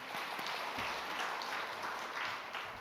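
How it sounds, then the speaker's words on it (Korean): A church congregation applauds during worship, producing a dense, continuous patter of many hands at a moderate, even level throughout. "모두 우리 찬양 받으시고 우리 믿음 받으실 주님께 영광의 박수 올려드립니다"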